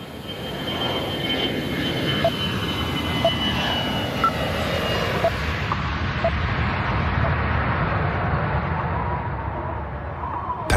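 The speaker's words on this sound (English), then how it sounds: "clear to takeoff" An AirAsia jet airliner on its takeoff roll gives a loud, steady engine roar and rushing noise that builds and holds for about ten seconds, with no voices.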